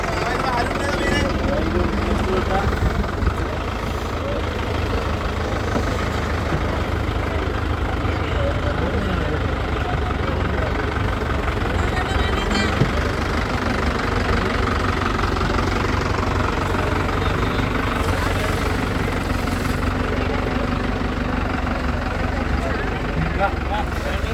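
A tractor engine runs continuously on a beach at a Vizhinjam fish auction, where tractors push boats out of the water. The steady, rumbling drone carries on under voices and crowd noise.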